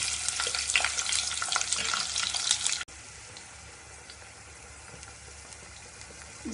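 Onions frying in a pan for vegetable biryani, a loud close sizzle for a few seconds that cuts off abruptly, leaving a quieter low hiss afterward.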